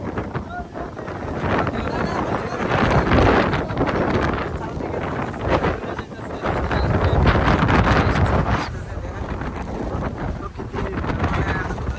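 Strong gusting wind buffets the microphone outdoors, a loud, continuous low rumble that swells and eases over several seconds, with people talking and singing partly buried under it.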